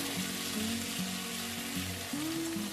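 Black mustard paste being stirred into kundri (ivy gourd) frying in a pan, a steady close sizzle with soft scraping strokes of stirring, no talk.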